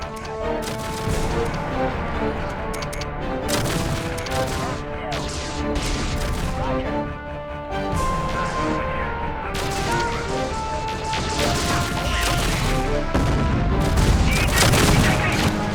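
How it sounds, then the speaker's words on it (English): Mech energy weapons firing in MechCommander 2 on PC, as a Zeus battles an Enfield: loud, continuous volleys of blasts and impacts. They run over background music with faint talk and swell heavier toward the end. "he keeps attacking our Enfield with his energy weapons"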